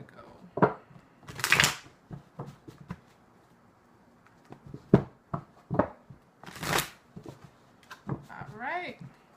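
Tarot cards are shuffled in a series of sharp riffling bursts and soft taps, close and intermittent, with pauses between handfuls and a voice murmuring briefly near the end.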